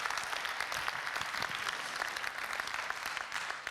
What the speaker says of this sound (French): On applaudit ce film.